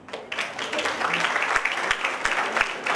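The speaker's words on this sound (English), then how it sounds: "Let's give a huge round of applause for her efforts and her hard work." An audience applauds an award winner at a technical session, a steady wash of clapping that fills the clip at moderate loudness, with a few sharper claps standing out.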